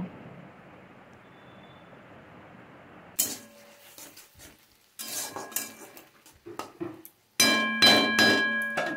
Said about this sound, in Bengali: হালকা একটু জল ছড়া দিয়ে এখন আমি মশলাটা ভালো করে কষিয়ে নেব